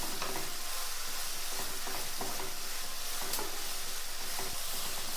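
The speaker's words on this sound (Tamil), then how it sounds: "இந்த ஆனியனோட சேர்த்து இந்த பூண்டையும் நல்லா வதக்கிக்குவோம்." Onion and garlic sauté in a pan for an egg gravy, giving a steady, close hiss of frying with faint scrapes of stirring throughout, and no voices.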